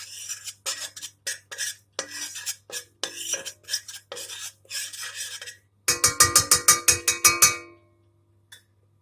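A metal spoon scrapes and clinks steadily against a pot in short rhythmic strokes while flour is toasted in oil for tomato soup, ending in a quicker run of sharp clatters, with no talking.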